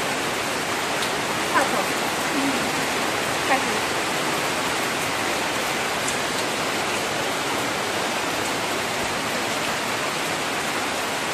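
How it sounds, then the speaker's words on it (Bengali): Heavy rain pours down nearby in a steady, dense hiss that barely changes over its length, with a couple of faint knocks. "সব কষ্ট এক বৃষ্টিতে শেষ হয়ে গেল"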